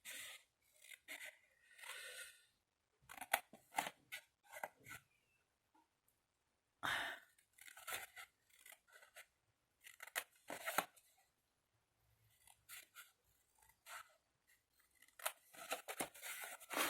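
Scissors snip through the long gluing tab of a cardboard box for a tall polygonal box in repeated short bursts of close cutting and rubbing, separated by brief quiet pauses.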